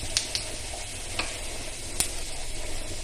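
Dried red chillies added to hot oil with popped mustard seeds give a soft, steady sizzle with a few sharp crackles and pops scattered through it.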